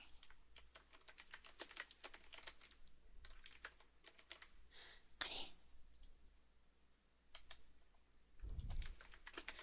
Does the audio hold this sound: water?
no